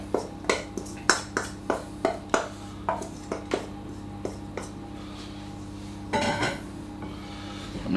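Grated carrot being mixed into carrot cake batter in a bowl, a series of sharp spoon-on-bowl taps and clinks in a steady rhythm, then a brief burst of scraping, close and fairly quiet.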